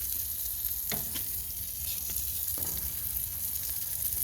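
Buttered burger bun tops sizzling on a grill, a steady soft hiss of frying fat with a few faint scrapes, no talking.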